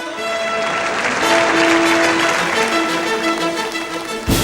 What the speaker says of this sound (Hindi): Rajiv Shukla ji के लिए जोरदार तालियां दोस्तों